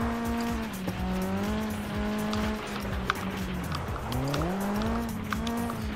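A car in the racing game Flatout 2 revs with wheelspin, its engine tone climbing and sliding while tires squeal continuously and loudly throughout, with no speech.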